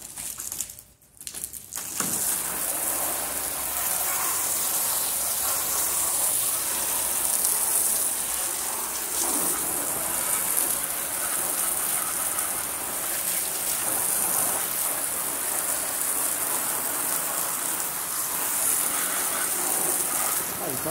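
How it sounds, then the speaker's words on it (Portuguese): Water is thrown and splashed onto a bare, unpainted sheet-metal lid panel from a Ford Belina, making a steady, loud hissing wash that runs almost continuously after a brief quiet moment at the start. "Então vamos pôr ela em pé e jogar água."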